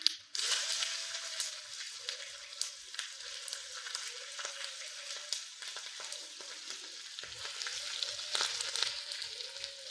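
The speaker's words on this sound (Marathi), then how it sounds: "तडक्यामध्ये आपण जिरा, मोहरी आणि तीळ घालून घेऊया. त्याला छान तडतडू द्यायचं आहे." A tempering of cumin, mustard seeds and sesame sizzles in hot oil for white dhokla, a close, continuous frying hiss with scattered sharp pops and crackles, plus a faint recurring tonal whine in the background.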